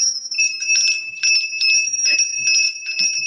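A bell rings in steady, repeated strikes with a bright, sustained tone. It sounds fairly clear and close, with faint murmurs underneath.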